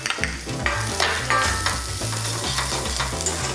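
Chopped onions and cumin seeds sizzle in hot oil in a pan for oats upma, with steady frying crackle and regular stirring scrapes close by, no talking.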